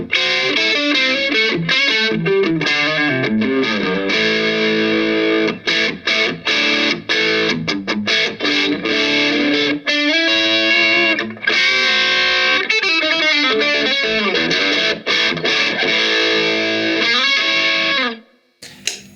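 Yamaha Revstar twin-humbucker electric guitar with its dry switch engaged, playing distorted chords and choppy riffs with brief pauses, loud and close with no voices.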